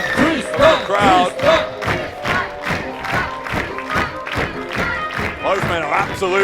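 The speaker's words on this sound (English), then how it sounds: "Tristan Archer now enjoying the applause from the crowd." A crowd at a Passion Pro wrestling event claps in steady rhythmic beats for the wrestler, with shouting and chanting voices mixed in and building toward the end.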